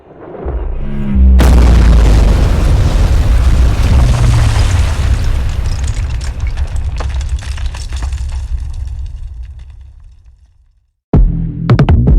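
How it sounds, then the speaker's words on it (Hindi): A sudden loud explosion booms and rumbles on for several seconds, slowly fading, followed by another short burst at the end. "तब एक जोरदार धमाका हुआ।"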